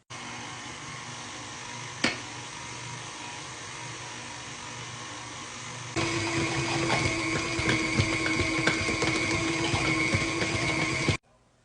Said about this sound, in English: My mixer has been going on a speed of 5 for about 3 minutes.